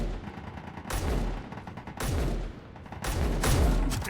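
Bursts of turret gunfire in Space Engineers, an interior turret firing out of a building, three heavy rattling volleys with deep booming lows, loud and close, separated by brief lulls.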